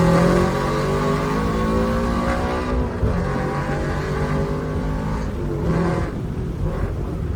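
A tuned Toyota GR86 accelerates hard from inside the car, its engine droning loud and steady with rising harmonics and brief dips at gear shifts.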